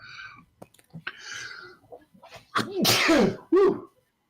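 A sudden, forceful sneeze bursts out after some quiet breathy sounds, followed by a short exhaled vocal burst.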